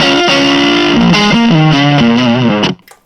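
An electric guitar played through a ZOOM multi-effects fuzz distortion plays a loud, saturated run of stepping notes and ends with an abrupt cutoff into near silence.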